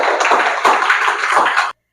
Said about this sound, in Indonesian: tepuk tangan buat Mang Pedro ya